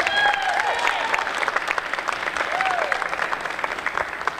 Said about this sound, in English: One more time, give her a big round of applause.